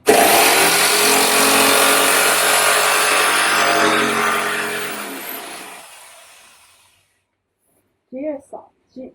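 Jigsaw blade cutting through a board in a DIY setting, a loud continuous buzzing saw drone that holds steady for about five seconds, then fades and stops, followed by a couple of brief voice sounds.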